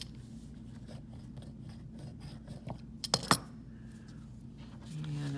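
Scissors cutting fabric for foundation paper piecing: a faint run of rasping snips, then a brief cluster of sharper metallic clicks, close and quiet with no speech.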